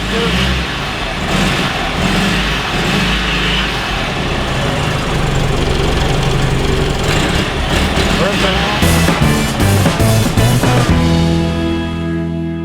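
A Honda 600 car engine running after its wire loom was redone, a loud, steady, busy idle close by with some rising revs near the end.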